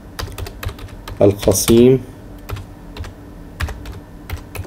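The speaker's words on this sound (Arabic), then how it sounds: "لو كتبنا هنا في الجوجل جامعة" Rapid clicking of a computer keyboard as a Google search is typed, steady close keystrokes running through the whole stretch, with a short spoken phrase breaking in near the middle.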